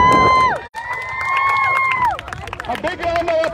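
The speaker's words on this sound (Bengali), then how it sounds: "তাদের জন্য প্রথমে একটা জোরে করতালি হোক" A crowd at a Bengali community soccer match cheers loudly for the players, with shouts and drawn-out whoops over a dense roar and a little clapping, close and sustained.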